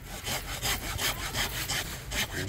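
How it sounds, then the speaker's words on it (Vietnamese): A hand saw cuts back and forth through a lemon tree branch, producing steady rhythmic rasping strokes, loud and close, about eight strokes in a little over two seconds with no talking. "Cưa phải cưa hai bên đấy."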